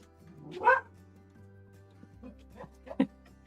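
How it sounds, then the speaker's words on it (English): Cat outdoors, a couple of short meow-like cries spaced apart, moderately near over a low steady background hum. "Oh, it's the cat."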